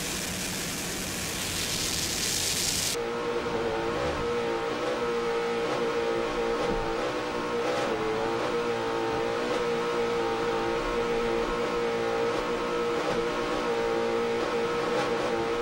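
Team War Paint's Supercat 750 class racing powerboat runs during a race at the Key West World Championships, its engine a continuous loud, droning roar with steady tonal layers over rushing wind and water noise, after an opening burst of broadband hiss.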